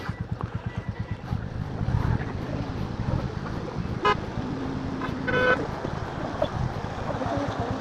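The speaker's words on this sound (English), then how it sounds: "What is this traffic," City traffic surrounds a motorcycle ride, with a steady low engine rumble and a couple of short car horn toots partway through. Faint voices mix in with the noise.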